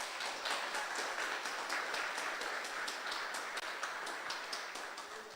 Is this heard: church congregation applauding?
yes